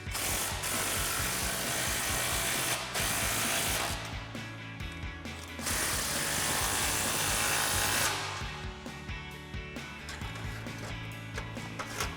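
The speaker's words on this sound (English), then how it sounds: "we're gonna grab our impact and a 16mm socket and tighten them" An impact wrench with a 16mm socket tightens exhaust clamps on the H-pipe of a Toyota Tacoma AWE 0FG dual exhaust, giving long, loud rattling bursts with short gaps between them.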